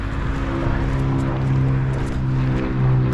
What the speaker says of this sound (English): Oh, sorry about the plane.